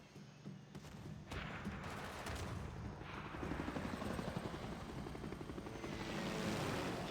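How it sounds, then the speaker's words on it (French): A helicopter in the video game Civilization, a steady whirring rotor drone that grows fuller over several seconds amid game battle sounds, with no talking. "Fais gaffe, ton hélicoptère."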